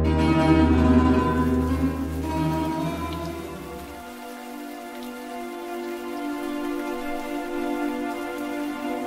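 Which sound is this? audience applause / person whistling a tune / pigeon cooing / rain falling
rain falling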